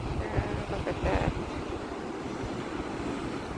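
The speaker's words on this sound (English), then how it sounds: "doing the surfing, big waves, so strong waves." Strong ocean surf breaking in a steady roaring wash, heard at a distance beneath heavy wind buffeting on the microphone.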